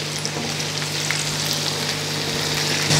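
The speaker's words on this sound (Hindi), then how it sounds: "ये आलू इधर फ्राई हो रहे हैं तो इनके साथ हम आधा टीस्पून ज़ीरा डाल लेंगे" Potato pieces and cumin seeds fry in hot oil, giving a steady, close, dense sizzle that runs unbroken with no voices.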